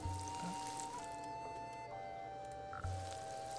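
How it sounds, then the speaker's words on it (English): Water poured onto crops in the Dead in Vinland video game, a brief soft pouring splash over steady sustained game music tones, with a low thump near the start and again toward the end. "And sure, we can water it"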